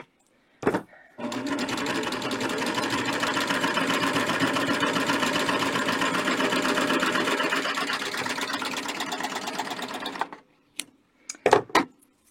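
A sewing machine fitted with a binder attachment stitches binding in one continuous fast whirring run of about nine seconds, framed by a few handling clicks before and after.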